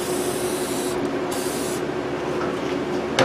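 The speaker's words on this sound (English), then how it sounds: "As the brake clean." Brake cleaner sprays from a can onto the front brakes of a Ford Freestyle, a loud continuous hiss with brief pauses, close to the mic and with no talking.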